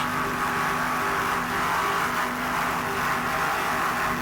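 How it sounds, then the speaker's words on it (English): A Mercruiser-powered offshore Superboat-class racing powerboat roars at speed in a 1993 race on a lake, its engine note a loud, continuous droning rumble that holds steady throughout. "That Mercruiser power sounds excellent."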